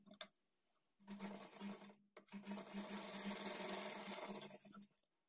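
A sewing machine stitches a lining blouse with a 1/2-inch margin, a steady close whirring run broken by a brief pause, then a longer even stretch that stops abruptly.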